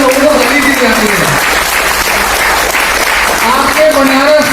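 Audience clapping at a business gathering in Varanasi, a loud, dense wash of applause running throughout, with voices audible over it.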